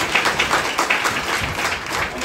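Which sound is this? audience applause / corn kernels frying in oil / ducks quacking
audience applause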